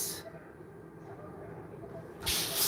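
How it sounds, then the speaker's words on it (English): A quick burst of spray from a spray bottle into a reptile's tub, a short bright hiss near the end over steady background noise. "Quick little spray."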